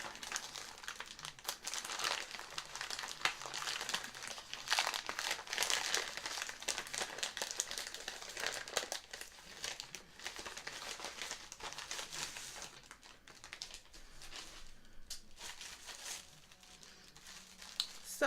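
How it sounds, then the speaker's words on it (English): Crinkly plastic mailer bag being opened and handled, a steady stream of close crumpling and rustling with light crackles that fades somewhat near the end. "let's open this up and take a look"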